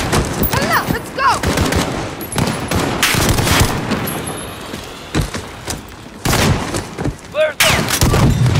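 Loud Call of Duty: Modern Warfare (2019) gunfire rattles in repeated machine-gun bursts and single shots at a building, close and sharp, with brief gaps, shouted voices and battle noise mixed in.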